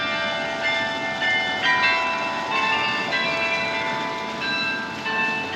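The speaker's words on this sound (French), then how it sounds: "les cloches du beffroi sonnent. C'est le carillon." Several carillon bells ring out together from a belfry tower in a sustained, overlapping peal with steady resonant tones, loud and continuous.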